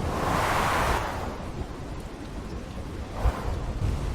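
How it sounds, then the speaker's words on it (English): Stormy weather in the video game Ark on the Crystal Isles map: a steady wash of rain noise, with a louder roaring surge at the start and a brief low rumble of thunder near the end, alone without talk. "there's a storm every other hour on this map almost."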